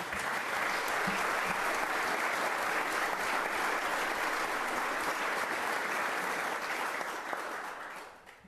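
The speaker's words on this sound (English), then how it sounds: "Give him a round of applause, please." Steady, full applause from the audience at a city council special meeting, honoring a long-serving police chief; dense, sustained clapping that fades out at the end.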